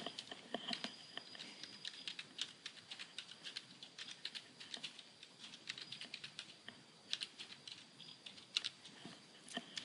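Rapid typing on a computer keyboard, with a steady stream of light, close key clicks and occasional heavier keystrokes, quiet and alone with no talking.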